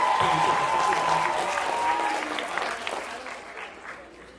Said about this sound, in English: y'all give a round of applause for all of these bright young people